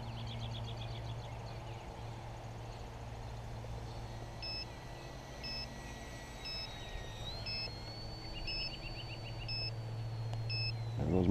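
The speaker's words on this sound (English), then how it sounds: "There goes my timer." An electronic timer beeps in short, evenly spaced repeated tones inside a small aircraft cockpit during a flaps-down approach, heard over a steady engine drone, with a pilot speaking at times.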